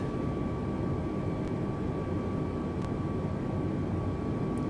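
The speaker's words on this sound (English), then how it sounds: "I do like flying the A320 because it's been kind." Steady, continuous engine drone of an Airbus A320 airliner in flight in Microsoft Flight Simulator, a loud even hum with a faint whine held throughout and no talk.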